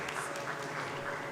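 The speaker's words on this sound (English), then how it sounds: "Please, a round of applause." An audience at a corporate governance career fair applauds with soft, steady clapping. The crowd sounds moderately distant and fairly quiet throughout.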